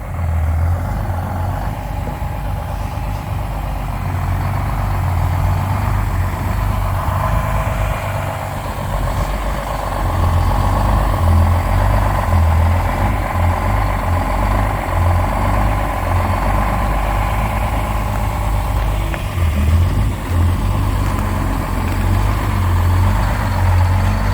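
A 1971 GMC 9500 truck engine running after sitting for 26 years, a loud, steady low diesel-like rumble idling close by with slight fluctuations and no voices.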